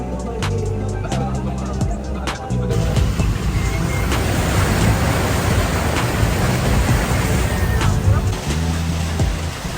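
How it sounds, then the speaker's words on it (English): Heavy rain while driving on flooded roads in Sharjah, a steady loud wash of water spray and rain noise over the car's rumble, continuous throughout with no talking. "You can see the amount of water on these roads that indicate how heavily it's raining."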